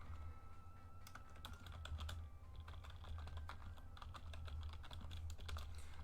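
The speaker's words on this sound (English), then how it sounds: "just got a message from someone. I'm typing it up." Steady clatter of typing on a computer keyboard, rapid uneven keystrokes over a low hum, fairly quiet and without speech.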